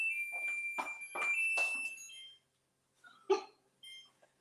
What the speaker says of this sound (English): The timer.